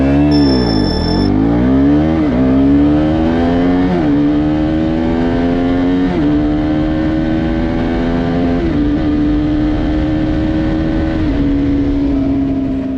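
A first-generation KTM Duke motorcycle accelerates hard from a standstill toward 100 km/h. The loud, close engine rises sharply, then climbs through several gear shifts, each marked by a brief dip before the pitch rises again, with no talking.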